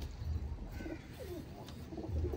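Soft, low coos from a female pigeon with yellow eyes repeat a few times, close by, over a faint background hum and a light higher chirp.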